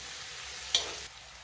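Curry leaves drop into hot sesame oil for tempering, a soft background hiss broken by one sharp burst of sizzle that fades within a fraction of a second; quiet and close, with no talk.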